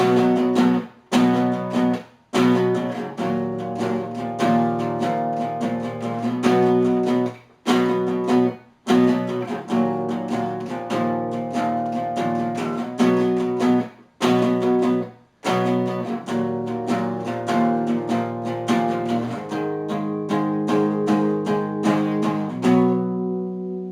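Electric guitar plays the chorus of a song with chugging power chords in a steady rhythm, broken by several brief gaps, heard alone and close.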